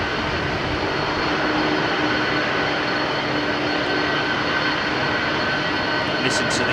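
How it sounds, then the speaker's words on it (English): Old jet engines such as Trent 700 and CF6 turbofans at London Heathrow Airport, a steady broad roaring whine held throughout at a fair distance, loud and uninterrupted. "Listen to these old school engines"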